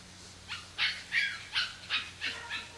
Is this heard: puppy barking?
yes